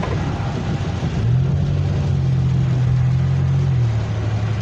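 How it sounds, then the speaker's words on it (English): A car's engine hums steadily as it drives past, its tone rising briefly and settling, loud and fairly close over a continuous road rumble, with no one talking. "That's the car right there."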